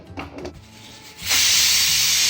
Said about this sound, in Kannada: ಕುಕ್ಕರ್ ವಿಸಿಲ್ ಆವೊಂದುಂಡು